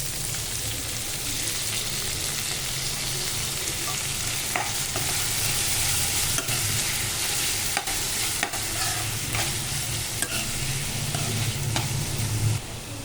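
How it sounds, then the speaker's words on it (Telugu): Tomato pieces fry in a pan with dried red chillies, giving a steady, loud, close sizzle with occasional faint clicks of stirring throughout. "ఇప్పుడు ముందుగా కట్ చేసి పెట్టుకున్న టమాటా ముక్కలు వేసుకుందాం."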